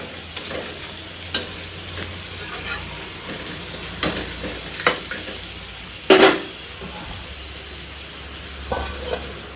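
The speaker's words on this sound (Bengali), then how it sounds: "এবার নোটে মাছ দিয়ে ভালো করে মশলাটা মিক্স করে নিচ্ছি" Bombay duck fish fries in a spicy masala in a pan, with a soft steady sizzle under repeated stirring scrapes and several sharp clinks of a spoon against the metal pan, and no talking.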